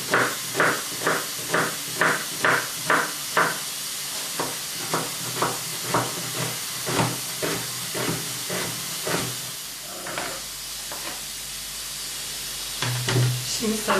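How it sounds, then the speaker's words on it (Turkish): A knife finely chops onions on a cutting board in a steady rhythm of many quick strikes, close up, slowing and fading near the end. "Soğanları ince doğruyoruz."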